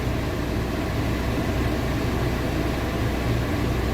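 Air conditioning blower of a fourth-generation Suzuki Wagon R running at a strong setting inside the cabin, a steady, loud, even whoosh of rushing air with no breaks or talk.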